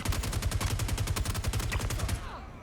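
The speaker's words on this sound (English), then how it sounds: "Oh, that's the sniper. Oh, that's a shotgun." Star Citizen game combat brings a rapid burst of repeated gunfire, evenly spaced sharp reports that keep going for over two seconds before tailing off.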